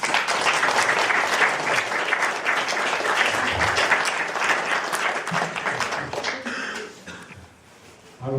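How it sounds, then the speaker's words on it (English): An audience at a children's stage performance applauds a girl, with steady, dense clapping that carries on for several seconds and then thins out and fades near the end. "Give her a clap, she's a nice girl."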